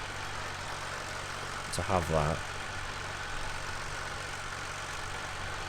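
Tractor engine in a farming video game runs with a steady low idle drone throughout, while someone talks briefly over it in the middle.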